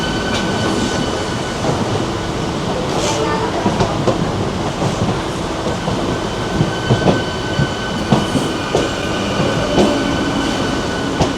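Rumble and rattle of a moving train on the Howrah–Sheoraphuli suburban line, steady and loud throughout, with rhythmic wheel clacks and brief metallic squeals over the continuous roar of the carriage.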